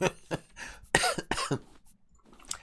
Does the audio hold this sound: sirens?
no